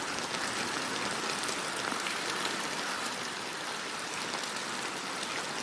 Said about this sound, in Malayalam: ധന്യ, ഇന്നലെ ഉച്ചവരെ ഒരല്പം വിട്ടുനിന്ന മഴ ഉച്ചയ്ക്ക് ശേഷം അതിശക്തമായി തുടരുകയാണ്.